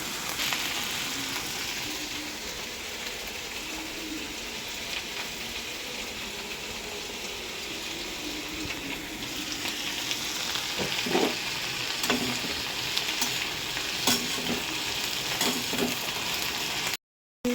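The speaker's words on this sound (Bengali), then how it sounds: "ভেন্ডি ভেজে নিলাম।" Okra fries in hot oil in a wok, a constant sizzling hiss with occasional scraping stirs and light clatter, steady and close throughout.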